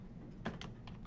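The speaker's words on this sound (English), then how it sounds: "That's what I'm going to type in here." Typing on a computer keyboard while entering an equation, a handful of light, close keystrokes in an uneven rhythm over a quiet background.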